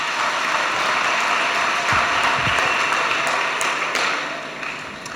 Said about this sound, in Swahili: Makofi tafadhali kwa kanisa